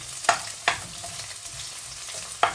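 Onions being sautéed in a pan for a simple hake dish, with a steady background sizzle and three sharp stirring or scraping strikes spaced across the moment, no voices.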